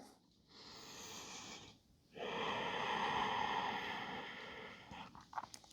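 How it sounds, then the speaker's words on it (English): Slow, audible breaths taken during a yoga flow, a soft inhale followed by a longer, fuller exhale, close and alone with no talking. "Take a breath."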